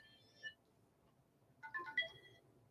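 A mobile phone rings faintly in a quiet room, a brief electronic melody that sounds once, pauses and then returns with a slightly fuller burst of tones.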